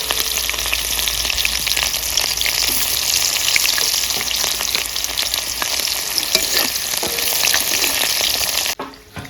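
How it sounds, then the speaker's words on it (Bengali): Bay leaves and whole cumin seeds fry in hot oil for a chicken and mustard greens curry, a loud, close, steady sizzle with fine crackling that cuts off abruptly near the end. "তেলে তেজপাতা দিব, গোটা জিরা দিব।"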